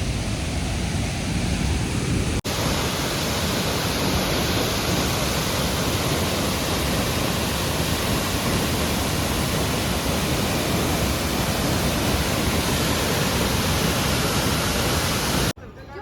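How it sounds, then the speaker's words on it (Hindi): Steady roaring rush of a waterfall on the Madhmaheshwar trek route in the Himalayas, loud and continuous broadband noise filling the whole stretch, close by, with no talk over it. "तो उसका जो बेस्ट वाटरफॉल है वो मैं आपको दिखाने वाली हूँ।"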